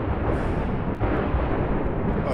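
A fire grenade goes off in a video game, a dense rumbling burst of roaring noise that fills the whole short moment with a steady crackling wash.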